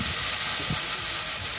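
Spice paste hitting a hot pan in a home kitchen, giving a loud, steady sizzling hiss close by, with faint low thumps beneath it.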